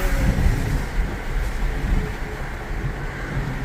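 Audi A6 3.0T fitted with an ECSTuning X-pipe, its exhaust giving a steady raspy drone at close range with no talking over it.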